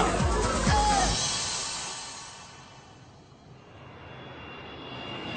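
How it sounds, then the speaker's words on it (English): A fixed-wing airplane arriving, its loud engine roar fading away steadily over several seconds, with no voices. "Flight 354 from Paris have just arrived."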